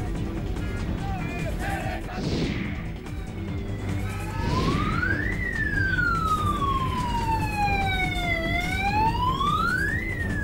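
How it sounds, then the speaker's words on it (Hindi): Alarm siren wailing from an SBI bank ATM in Ajmer, rising and falling in long sweeps over steady background noise, loud and continuous, with brief bursts of other sounds early on. "अचानक ATM से सायरन की आवाज सुनकर वहां मौजूद लोगों ने इसकी सूचना थाने को दी"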